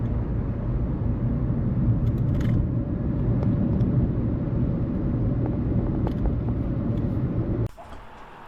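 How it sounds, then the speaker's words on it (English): Car driving along a scenic coastal road in Ireland, a steady close engine and road rumble heard from inside, ending abruptly, with no talking. "Driving the scenic drive."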